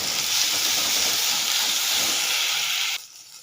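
Onion and ginger-garlic paste roast in a hot pan, giving a loud, steady steam-like sizzle that runs unbroken for about three seconds, then drops sharply to a quieter hiss.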